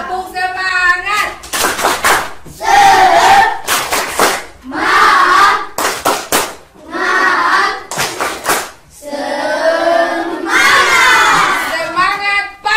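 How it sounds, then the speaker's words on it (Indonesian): A class of schoolchildren claps in rhythmic bursts while shouting a spirit chant together, loud and close, the bursts of clapping and shouting alternating with brief pauses. "Tepuk semangat."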